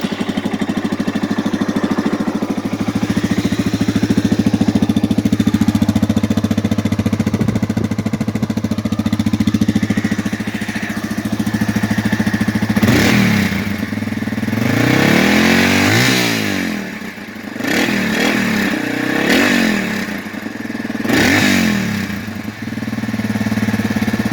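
A Yamaha TT-R225 dirt bike engine putters at idle, then is revved several times in sharp bursts that rise and fall, loud and close.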